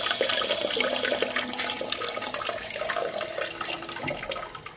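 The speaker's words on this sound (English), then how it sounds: "the water starts flowing out, cleaning the nozzle that's inside it here" Steady rushing water flows continuously from a Luxe E890 electric bidet's nozzle-cleaning spray, like a spray running through a small fitting, filling the whole stretch without pause.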